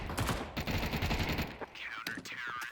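Pistol gunfire from a Counter-Strike match on the Mirage map, a dense run of rapid overlapping shots with loud, busy in-game action throughout.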